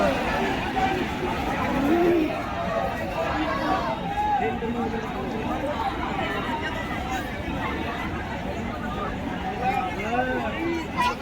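A large crowd of protesters at Jantar Mantar in Delhi fills the air with dense, continuous chatter and babble, many voices close and overlapping at a steady loudness.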